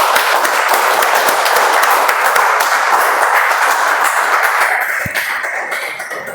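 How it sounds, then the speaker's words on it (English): Audience applause for a Toastmaster at a Toastmasters club speech marathon meeting, loud dense clapping that holds steady and then thins and fades toward the end. "Can we have a big round of applause for Toastmaster Akshay?"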